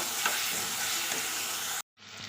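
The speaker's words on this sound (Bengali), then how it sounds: "ভালো করে মশলাটাকে আবার কষিয়ে নেব" Steady sizzling of a spice paste with yogurt and a little sugar frying in a pan with scraping stirs, then a brief silence before the sizzle resumes.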